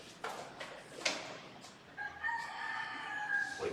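A rooster crows in short bursts with a sustained call near the end, set against faint background noise.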